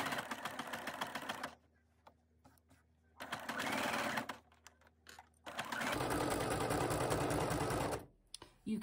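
Sewing machine running zigzag stitches along the triangular fabric flags of a bunting strip, heard in three steady buzzing bursts of varying length separated by short pauses, close and loud with no talking.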